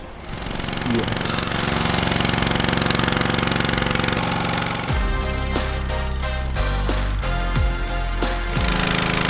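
Boat engine on the River Kabul, a loud steady mechanical drone with a knocking, jackhammer-like chug that runs throughout, close and constant, with brief rhythmic bursts toward the end.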